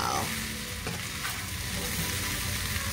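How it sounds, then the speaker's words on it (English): Egg frying and being stirred into chicken fried rice in a hot pan, a dense continuous sizzle with stirring scrapes throughout, close and loud, with no voices over it. "I put my egg now, and I'm incorporating everything."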